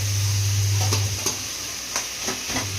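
Tomatoes go into a pan of onion already sautéed with ginger-garlic paste, giving a soft, steady sizzle with occasional scraping stirs and a low hum beneath, no voices.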